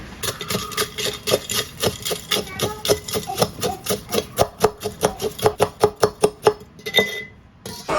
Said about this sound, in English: And now you have a whole bunch of crushed up eggshells in here.